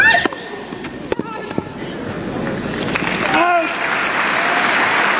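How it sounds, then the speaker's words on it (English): A Centre Court crowd at Wimbledon applauds during a women's singles tennis match. A few sharp knocks come first, then a broad wash of clapping and crowd noise swells and holds steady to the end. "you can hear the noise, the support from the centre court crowd"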